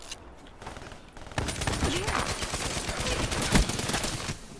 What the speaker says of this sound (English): I was just shooting at everything that moved.